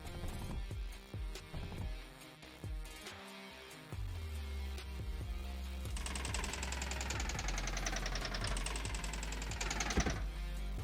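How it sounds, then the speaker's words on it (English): A pneumatic drill placed in the factory game Mindustry settles into a steady mechanical knocking drone from about four seconds, running under busy game music and effects until the end. "Just get a very quick pneumatic drill down."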